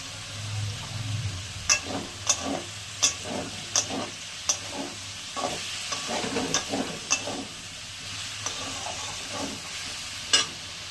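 Turmeric and a splash of milk stir-fried in a pan for a vegetarian tarka, with a steady low sizzle under a run of repeated spatula scrapes and clacks against the pan, close and fairly loud, no talking.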